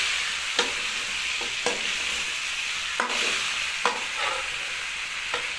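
Potatoes and carrots fry in a pan, a steady loud sizzle broken by a handful of sharp scraping clacks as a spoon stirs them.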